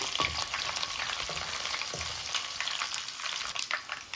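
Curry leaves and small onion cloves frying in oil, a soft continuous sizzle with occasional stirring scrapes and light crackles, no talking.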